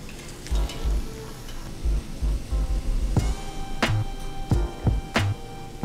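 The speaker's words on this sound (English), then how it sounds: "And now we're gonna fry the empanadilla. Make sure that your oil is very hot" Puerto Rican empanadillas de pastelón fry in very hot oil with a steady sizzle, broken by several sharp pops and clinks of utensils, close and clear.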